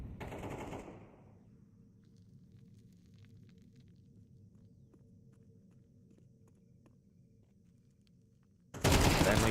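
AK rifle fire in a Counter-Strike esports match: a burst of gunfire opens, followed by a long quiet stretch with faint movement, then another loud burst of shots at the end.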